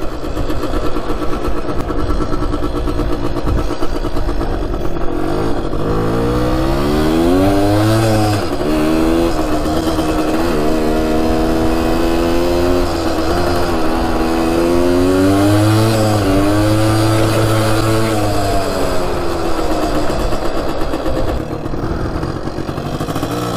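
A Suzuki RV90 motorcycle that sat abandoned for years runs loud and close, its small engine revving up and down in repeated sweeping rises and falls over a steady buzzing idle.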